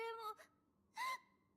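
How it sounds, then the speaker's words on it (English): A video game character's sneeze comes out as a loud, breathy exhale. A short voiced breath is followed by one stronger, airy burst, both heard up close against a quiet background. "That just sounded like someone breathing out very loudly."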